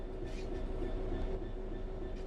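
A locomotive in the Train Sim World 4 game rumbles along steadily, its low, continuous rail noise and faint rhythmic wheel sounds holding at an even, moderate level throughout, with no voices.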